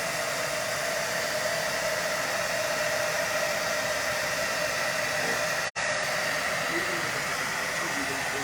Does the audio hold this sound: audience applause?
no